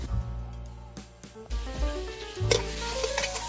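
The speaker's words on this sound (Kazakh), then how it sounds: "пияздарымызды салып, көп емес 2-3 минут қана қуырып алатын боламыз" Onions fry with meat in a pan, making a steady sizzle partly masked by background music with sustained tones.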